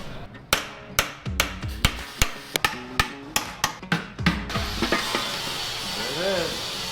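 A steady series of heavy metal hammer strikes on engine parts, about a dozen evenly spaced blows, followed by a hiss and rattling clatter.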